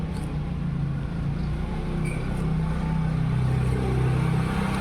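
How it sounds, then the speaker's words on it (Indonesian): A motorcycle passes by outdoors in cool Garut weather, a steady low engine drone that swells slightly louder toward the end, with no talk over it. "Barusan ada motor lewat, ganggu banget nggak ke suara ini"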